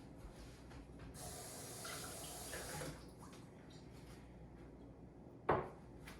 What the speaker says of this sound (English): you add a little bit of water